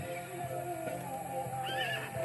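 A horse on a farm neighs and whinnies clearly, a loud drawn-out call with a rising squeal near the end, alone over light background noise.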